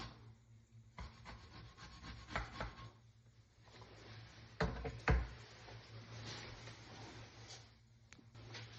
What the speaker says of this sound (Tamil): இப்போ அதை இந்த வாழைக்காய் சீவரத்துல சீவி வைக்கிறேன்.